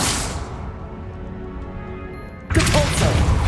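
A Confringo blasting spell fires in Hogwarts Legacy, heard as a loud burst of impact noise near the end after a quieter stretch of ambient game sound.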